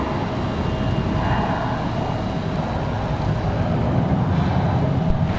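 A Cessna Citation business jet landing at Raleigh-Durham International Airport, its steady broadband engine roar holding loud and even throughout without any voices.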